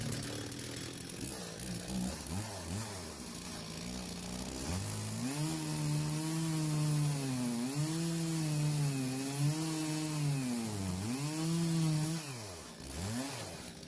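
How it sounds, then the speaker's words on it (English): A circular saw whines through wooden boards being cut to three-foot lengths for a square bale hay feeder, its loud motor pitch rising and dipping as the blade bites into the wood over several seconds. "We'll go ahead and use a circular saw, or whatever you want to cut it."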